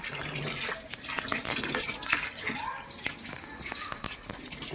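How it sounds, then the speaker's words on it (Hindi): A home washing machine churns a load of clothes, with continuous sloshing water and scattered clicks and knocks at moderate loudness, while voices talk nearby. "ये इधर देखो कपड़े धुल रहे हैं, देख।"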